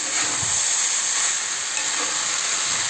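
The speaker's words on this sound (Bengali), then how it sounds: "সাবুগুলো দিয়ে দিচ্ছি, এবার নাড়িয়ে নেবো।" Soaked, drained sago pearls stirred in a hot frying pan for sago pulao: a continuous close sizzle with a steady hiss and soft stirring sounds, and no voices.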